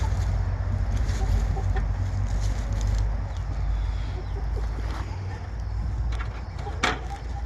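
Backyard chickens cluck and murmur during a January morning routine, a steady low flock chatter with a few sharper calls over a loud, constant background hum, with occasional human voice.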